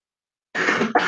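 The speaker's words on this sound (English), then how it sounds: "so forgive my coughing, everybody" After a moment of silence, a person with a cold coughs twice in quick succession, close and fairly loud.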